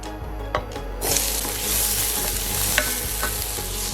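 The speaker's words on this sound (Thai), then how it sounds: "เมื่อเราน้ำมันเดือดครับผม ใส่หอมได้แล้ว" Shallots dropped into boiling oil in a wok, a loud dense sizzle that erupts after a brief quiet moment and keeps hissing with light stirring scrapes, close up and with no talk.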